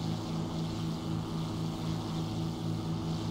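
In the War Thunder flight game, the propeller engine of a Firebrand TF Mk.IV drones steadily and loudly throughout, an even, unbroken hum with no voices.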